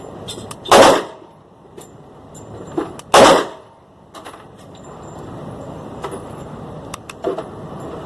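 A 10mm pistol fires, the first shot in double action: two loud, sharp reports about two and a half seconds apart stand out, with fainter clicks and handling noise between them and no talking.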